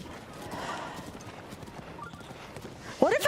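Horse hooves clip-clop steadily across the ground in The Legend of Zelda: Breath of the Wild, with a rising whinny at the end cutting in loudly over the quieter footfalls.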